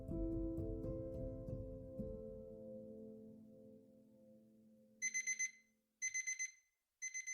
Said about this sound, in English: she woke up to the loud beep of her alarm clock